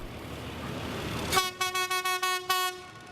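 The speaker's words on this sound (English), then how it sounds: "The train passes La Tacunga and is approaching Salcedo." A train on the Ecuadorian railway near Salcedo sounds a loud series of horn toots, several short even blasts in a steady rhythm ending with a longer one, over a faint background rumble.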